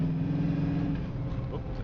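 A 1976 Chevrolet Camaro engine drones steadily at low pitch while shifting into second gear, heard from inside the car, the sound steady and close throughout.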